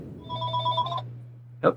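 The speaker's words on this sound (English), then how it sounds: "phone's ringing." A telephone rings in a quiet room, with one sustained electronic trill lasting about a second, then a short burst of ringing, over a low steady hum.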